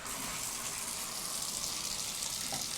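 Water gushes steadily from a bathtub faucet in a hotel room at the Rio All Suite Hotel & Casino, Las Vegas, a continuous hissing rush heard close up with no talking.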